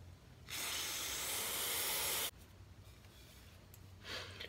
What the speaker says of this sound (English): Whether it looks clean or not, I like to just spray everything down.